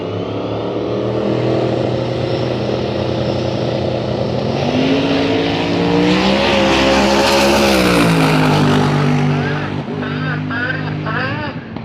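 A hot rod drag racing car roars down the strip during a drag week event, a loud engine note rising and falling in pitch as it passes, with a commentator talking over it.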